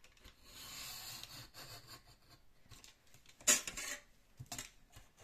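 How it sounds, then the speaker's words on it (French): A utility knife cuts excess paper along a metal ruler, giving faint scraping and rubbing strokes and a sharper click midway, quiet and close with pauses between strokes. "ma règle en fer, je la pose ici, je prends un cutter, hop, et je coupe"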